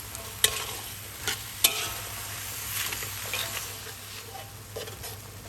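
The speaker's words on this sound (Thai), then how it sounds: "หลังจากนั้นใส่ผักคะน้าลงไปค่ะ ผัดทุกอย่างให้สุกเลยค่ะ" Kale, pork balls and other ingredients stir-fried in a pan for noodles, with steady close sizzling and frying hiss broken by a few sharp spatula scrapes and clacks against the pan.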